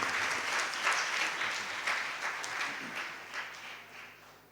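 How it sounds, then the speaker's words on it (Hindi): A church congregation applauds the bishop at a Mass for the Feast of the Baptism of the Lord, a dense, steady wash of many hands clapping together, moderately loud and tapering off toward the end. "तो भरपूर तालियां बजाकर हम बिशप जी का भी शुक्रिया अदा"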